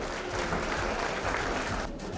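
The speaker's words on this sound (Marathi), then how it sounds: "एकदा जोरदार टाळ्या झाल्या पाहिजेत आपल्या विद्यार्थ्यांसाठी." A school audience at an annual prize-giving ceremony applauds the students, a short burst of dense clapping that stays steady and fairly loud for about two seconds, with no speech over it.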